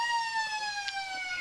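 A loud, steady siren sounds at an Australian rules football match in the Riverina, signalling quarter time in a Lions versus Goannas game; one sustained tone drones slightly downward in pitch for the whole moment, alone without crowd or talk.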